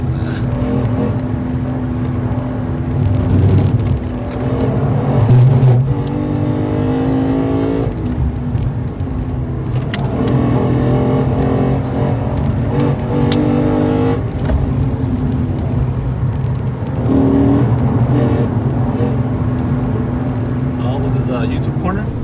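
BMW M2 engine accelerating hard on the Nürburgring, a loud in-car drone that rises in pitch through several gear changes, with people talking over it.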